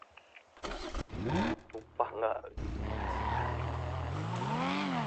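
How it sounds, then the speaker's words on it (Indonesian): A supermoto motorbike engine revs loudly in a GTA roleplay game, its pitch climbing and falling over the second half, after a stretch of people talking over a lower running engine. "Kenceng banget tuh motor."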